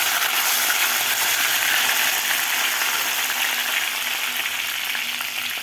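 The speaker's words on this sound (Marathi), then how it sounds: "यामध्ये घालायचे आपल्याला 10 ते 12 कढीपत्त्याचे पानं." Curry leaves and garlic crackle in hot oil in a pan, a loud continuous sizzle and spatter heard close up, easing slightly toward the end.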